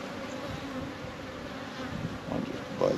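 Honeybees buzz steadily and close during an open hive check of a slightly defensive colony, a dense continuous hum with a few louder swells near the end.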